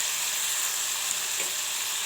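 Curry leaves sizzle in hot oil in a frying pan, a close, steady crackling hiss during dal preparation.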